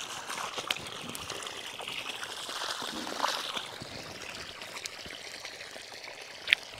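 Water pouring and trickling over a coconut tree in a village, a steady close splashing stream with small drips and splashes throughout.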